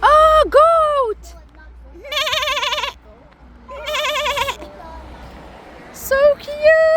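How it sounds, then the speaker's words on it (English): Goat bleating near the city of Khasab in Oman, three loud, wavering cries in a row with short gaps, then a quicker bleat at the end, with voices talking between and over them. "oh, goat!"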